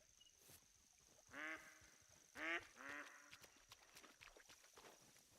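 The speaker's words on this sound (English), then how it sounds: "There are duck. I can hear them." A few duck quacks in The Hunter Call of the Wild on a bright night, three short nasal calls spaced about a second apart, faint and somewhat distant, followed by soft scattered ticking.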